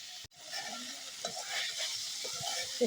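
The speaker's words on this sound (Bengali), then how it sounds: "শুটকি কষা নিচ্ছে" Dried fish (shutki) sautéing with onions in a pan, a soft steady sizzle broken by small stirring scrapes and a short clatter near the start, fairly close and quiet.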